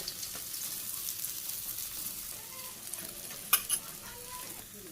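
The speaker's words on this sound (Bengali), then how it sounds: "মাছ ভাজা হয়ে গেছে, নামিয়ে নিতেছি।" Small fish frying in oil in a pan, a close, steady sizzle with a few scraping stirs and a sharp metallic clink near the end, no talking.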